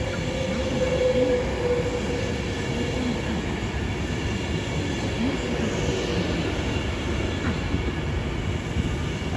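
Avanti West Coast Class 390 train at Watford Junction on the West Coast Main Line, a loud, steady rumble and rolling wheel noise with faint squeal as it runs close past the platform.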